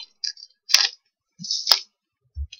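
Small blade or scissor snips cut a little X shape, a few crisp, short clicks and scrapes spaced apart, close and isolated against near silence.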